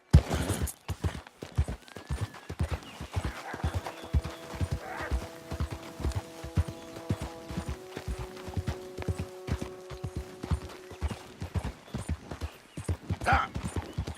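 In Red Dead Redemption 2, a horse gallops with a rapid, rhythmic clip-clop of hooves, close and steady, and snorts and whinnies can be heard along the way.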